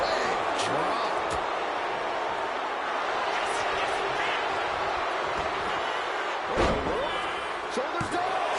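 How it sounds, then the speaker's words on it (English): A heavy slamming impact of a double leg drop hits the mat in WWE 2K25, one sharp thud late in a stretch of steady arena crowd roar with commentators talking. "Uh-oh, look out. Double leg drop."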